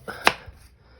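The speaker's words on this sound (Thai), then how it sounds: "หั่นทิ้งไปครับ" A knife comes down on chicken on a cutting board, a single sharp close chop with a lighter tap before it and a soft thud after, in an otherwise quiet kitchen.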